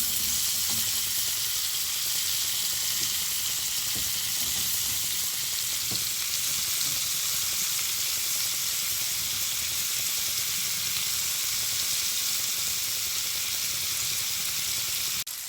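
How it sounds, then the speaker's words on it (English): Mushrooms fry in melted butter and margarine in a pan, a steady, dense sizzle that stays loud and even throughout, with a few faint clicks of a utensil. "So let my mushroom fry."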